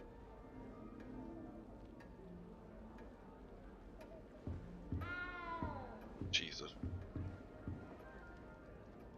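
A house cat gives a short meow mid-way, fairly close, amid a voice and light room noise, followed by a brief higher squeak.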